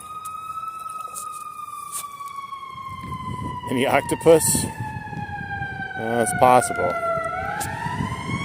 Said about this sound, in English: Listen to the wild call of the ambulance as it drives by.